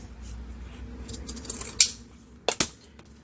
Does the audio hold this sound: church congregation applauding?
no